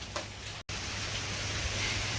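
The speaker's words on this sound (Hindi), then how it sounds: "अब शुरू हुई झमाझम बारिश" Heavy monsoon rain pours down steadily outdoors at a garden plant nursery, a dense, even hiss that runs throughout with only a momentary break.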